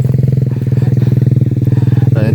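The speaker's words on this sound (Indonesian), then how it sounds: "Motornya motor apa itu? Bebek." An underbone motorcycle taxi passes close on a mountain trail up Mount Rinjani, its small engine loud, with a rapid, even putter and some rattling clatter.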